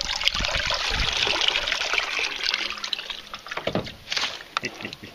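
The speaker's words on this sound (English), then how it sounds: "The water just beads right off it." Water splashes and trickles onto an ATV radiator coated with water-repellent spray in uneven bursts, close up, with faint drips and a few brief sounds in between.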